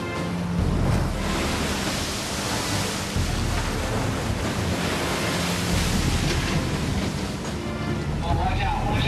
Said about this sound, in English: crab fishermen are constantly dealing with waves